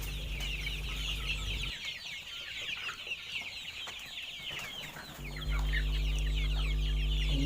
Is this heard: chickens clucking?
yes